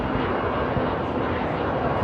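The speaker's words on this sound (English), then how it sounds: "F-22 Raptor flying over us" An F-22 Raptor fighter jet passes overhead near Norfolk International Airport, a loud broadband roar that fills the whole short span without letup.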